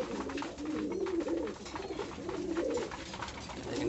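Pet pigeons cooing close by in a repeated, throaty rolling rhythm, several coos overlapping in quick succession with no speech over them.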